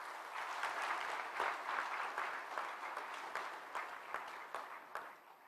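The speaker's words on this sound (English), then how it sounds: "deserve a special round of applause for your achievements." Steady audience applause at a university convocation ceremony, a crowd clapping continuously at moderate volume for several seconds.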